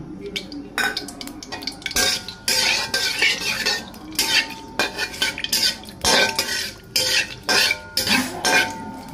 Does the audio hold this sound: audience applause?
no